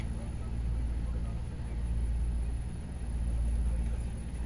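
A homemade compressor tester runs with a continuous low, droning motor hum, steady and close, with talk over it.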